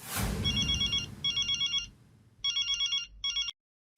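A telephone rings in a Hindi sitcom scene, two quick electronic trill bursts, a pause, then two more before it cuts off abruptly into silence.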